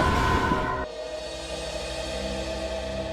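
A moving train rumbles steadily with a sustained tonal drone, louder at first and then settling into a constant rolling hum.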